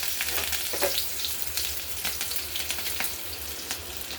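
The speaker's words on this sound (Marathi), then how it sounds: "आता आपण या तडका पॅनमध्ये 1 चम्मच सरसोचं तेल घेतलेलं आहे, त्याच्यामध्ये हिरवी मिरची टाकू" Green chilies hiss and sizzle in a spoonful of hot mustard oil in a small tadka pan for chole, a steady close frying crackle with scattered pops and no talk.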